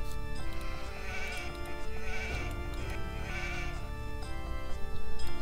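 Sheep in Age of Empires 2 bleat several times in quick succession, clear and close over soft game background sound, with no talk.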